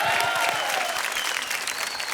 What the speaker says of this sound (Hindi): मेरे पति के लिए एक बार जोरदार तालियां बजा दो भाई